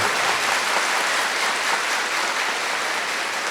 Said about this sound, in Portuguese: palmas para a Virgem Maria